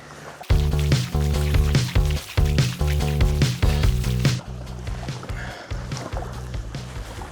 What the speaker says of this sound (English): So I'm just going to keep paddling.